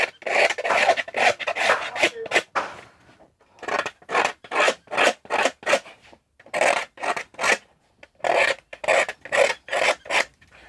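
A knife scrapes the white edge of a craft capsule in quick, rhythmic rasping strokes, three runs of several strokes each separated by short pauses, close and clear with no talking.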